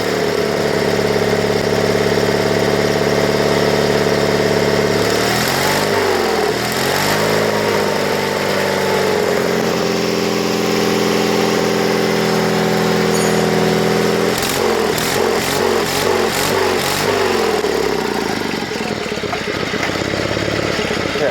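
A Sears Suburban SS16 garden tractor engine running in the cold, a steady loud small-engine drone that dips and surges briefly a few times before settling into a lower, even idle.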